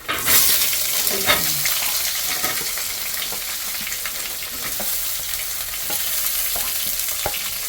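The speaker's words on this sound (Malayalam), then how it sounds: "അതാദ്യം ഇഞ്ചി ഇട്ട് കൊടുക്കുക ഇഞ്ചി ഒന്ന് വാടിക്കോട്ടെ" Ginger frying in oil in a pan, a steady loud sizzle with occasional stirring scrapes and ticks throughout, and no talking.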